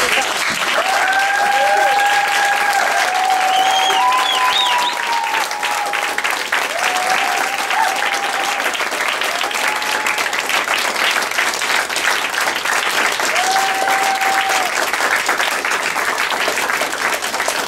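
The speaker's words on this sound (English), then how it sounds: "let's get on our feet and give a very great round of applause for Roddy and Dan for the great job" Loud, sustained applause from a standing audience fills the room for a long stretch, dense and steady, with cheers and whistles rising above the clapping.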